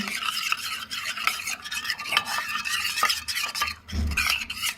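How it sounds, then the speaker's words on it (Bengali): A spoon stirring ground spice paste mixed with cumin powder, close-up with steady scraping and swishing against a bowl in a quick, even rhythm and no voices. "চামচ দিয়ে এটা আমি গুলে নিচ্ছি"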